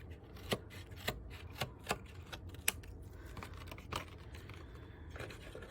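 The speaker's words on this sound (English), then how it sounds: "I just have regular scissors here, my cutter bees, and I'm just gonna trim this off." A series of sharp, crisp snips, roughly one every half second, close by and fairly quiet, with a light rustle between cuts.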